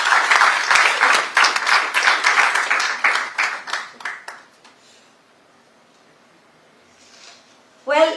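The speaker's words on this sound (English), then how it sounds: "I think it deserves another round of applause" A round of applause from the audience at a cashew festival curtain raiser in Goa, crisp claps for about four seconds that thin out and fade to near silence, ending with a brief burst of another sound.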